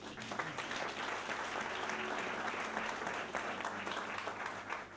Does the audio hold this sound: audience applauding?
yes